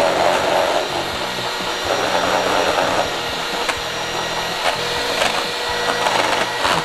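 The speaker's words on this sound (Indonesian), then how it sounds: "Kita pakai 2 putih telur. Kocok sampai kaku" An electric mixer beating two egg whites until stiff, a close, continuous whirring hum with rattling scrapes against the bowl and small bumps in loudness as the beaters move.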